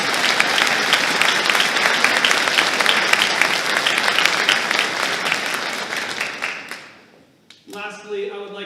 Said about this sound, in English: How about another round of applause for Lillian?